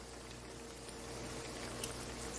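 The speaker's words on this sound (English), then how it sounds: "right now we're just letting them fry, just like you would do French fries" Breaded pickles frying in a pot of hot oil, a steady, dense fizzing crackle that stays even and unbroken throughout, heard close with no voices.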